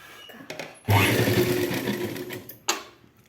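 A sewing machine runs in one close, loud burst, stitching a fabric piece onto a blouse, then stops; a brief whir follows near the end.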